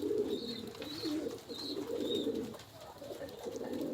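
Pigeons coo softly in a loft, several low throaty calls overlapping in a continuous murmur with a few higher chirps above, steady and moderately close with no talk.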